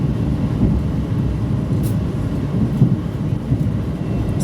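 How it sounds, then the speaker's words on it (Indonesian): The Bangunkarta stainless steel passenger train, on its Jakarta–Jombang run via Jogja, pulls into Cikarang station with a loud, steady low rumble that holds throughout and carries a brief high squeal near the middle, with no talking. "Kereta api Bangunkarta tiba di stasiun Cikarang awal 2 menit"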